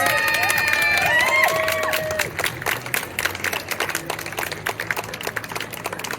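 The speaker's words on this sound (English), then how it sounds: "So dancers, are you ready to come out? Give a round of applause, please." Audience applauding dancers at an outdoor harbour festival dance performance, a dense burst of clapping with crowd noise, fading into scattered claps and voices toward the end.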